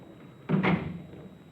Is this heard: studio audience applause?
no